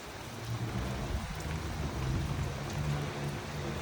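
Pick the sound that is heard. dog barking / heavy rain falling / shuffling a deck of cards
heavy rain falling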